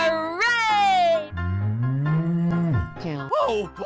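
A cartoon-style cow moo, a long low drawn-out call sounding loud and close, framed by short higher animated voices and bright effects before and after.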